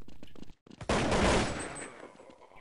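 Rapid bursts of gunfire from a Counter-Strike 1.6 match on de_dust2, with a few short shots, a brief gap, then a loud sustained volley that fades to a scattered tail.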